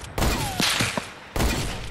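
Gunfire in the video game Fortnite: two loud sharp shots roughly a second apart, with smaller game effects between them.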